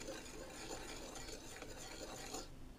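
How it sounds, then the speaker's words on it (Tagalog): A dry mix of all-purpose flour, white sugar, salt and baking powder for siopao dough is stirred in a bowl, a continuous soft scraping and rustling, close and fairly quiet, with no talk. "Haluin lang natin."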